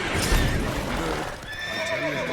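A horse in The Witcher 3 lets out a loud, close whinny with a falling, shaky pitch, set over rough background noise and a few hoof thuds.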